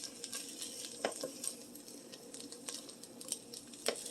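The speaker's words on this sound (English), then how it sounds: "You can give these beans a stir. And let them cook for a couple minutes." Dollar Tree refried beans cooking in a pan as they are stirred, giving a soft, steady sizzle and patter with a few louder scrapes and pops scattered throughout.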